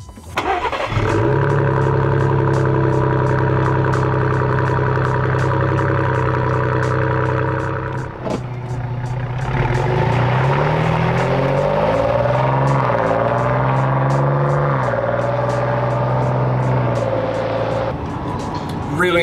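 A sixth-generation Ford Bronco engine with an aftermarket exhaust cranks to life, idles with a deep exhaust burble, then revs up and down several times before settling and revving again.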